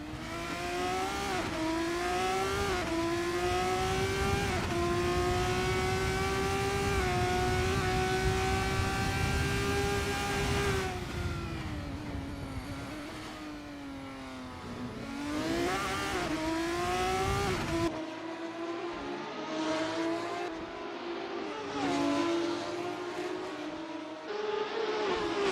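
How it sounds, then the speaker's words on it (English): Race car engines at Monaco in a racing simulator, a loud, continuous high engine whine rising and falling through gear changes, with a second car's engine audible close ahead and the tone dropping sharply near the end. "You can actually hear Nick's car ahead"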